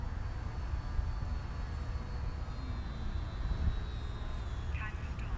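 A Hobbyzone Sport Cub S RC airplane drives its electric motor at full throttle, giving a steady high-pitched whine that rises slightly in pitch, heard against wind noise outdoors.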